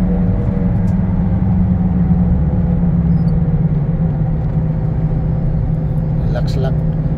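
Steady, loud road and engine rumble from a car cruising on a smooth highway in Saudi Arabia, continuous with no breaks and faint voices underneath.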